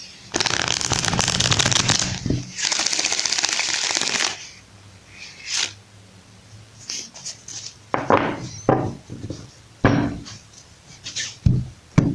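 Tarot cards shuffled by hand in two long riffling bursts, followed by shorter intermittent flicks and taps of the deck, close and crisp, with no talking over it.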